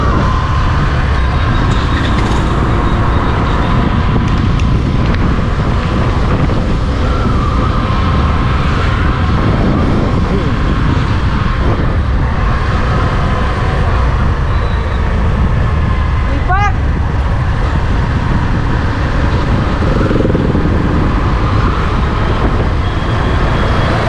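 A motorbike rides across Curzon Bridge on the ridge in evening traffic. A loud, steady roar of wind and engine fills the ride without letup, with passing traffic blended in.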